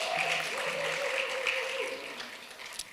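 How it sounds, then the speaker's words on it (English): Applause from a business forum audience, a steady wash of clapping that fades slightly toward the end, with faint voices and tones mixed in. "A big round of applause."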